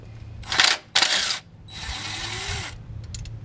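Ratchet wrench with a swivel loosening the transmission cover bolts on a 2001-2004 Toyota Tacoma, two quick clicking bursts followed by a longer steady ratcheting run, close and crisp with no speech.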